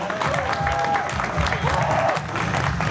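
A crowd at a dance battle final applauds the DJ with dense, sustained clapping and some cheering while an announcer's voice carries over the top.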